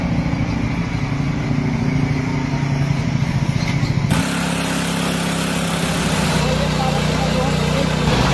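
A 7.5 HP petrol engine on a power tiller weeder runs steadily with a continuous mid-pitched engine drone, close and loud, and a change in tone partway through, while someone talks over it.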